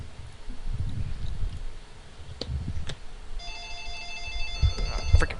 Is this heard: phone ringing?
yes